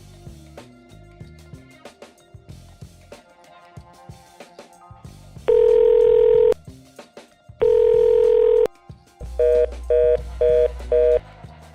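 An unanswered phone call rings out with two long ringback tones followed by a quick series of short beeps, all over soft background music in an office setting.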